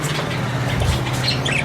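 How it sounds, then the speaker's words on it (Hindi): Parrots squawk and chirp at a crowded bird market, with scattered calls rising out of a steady, dense wash of background noise and a low hum. "अभी तोते की पकड़ने की बारी है"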